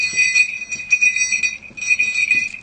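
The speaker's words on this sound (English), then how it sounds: "There you go. It's a bell." A small bell worn as a hair accessory jingles repeatedly, bright tinkling rings in quick bursts with a short pause midway, close and clear.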